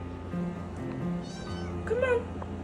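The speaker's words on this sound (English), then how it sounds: "they eventually rescued this little kitten" A small rescued kitten meows repeatedly in thin, high cries close up, with a low background hum and faint room noise around it.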